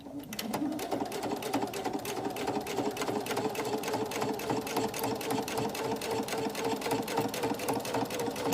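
A sewing machine stitches through scrappy quilting fabric in a steady, fast, unbroken run of needle strokes, close and loud for the whole stretch.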